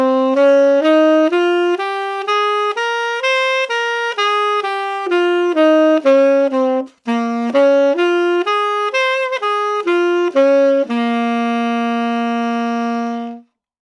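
A Dorian minor scale exercise played on a single melodic instrument, with clear stepwise notes rising and falling in an even rhythm, briefly breaking off midway, then ending on a long sustained note. Loud and close, with no talking.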